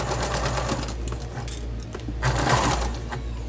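A sewing machine stitching a 3/8-inch seam on fabric for a Moroccan-style storage ottoman, a steady close mechanical whir and rapid needle clatter that surges louder toward the end, with no talking.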